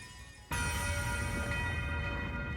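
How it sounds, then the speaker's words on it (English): The Nocturne Bell rings out in a video game, striking suddenly after a brief quiet and then sustaining a bright, shimmering metallic tone with ringing overtones that slowly fades. "Resound! Nocturne Bell!"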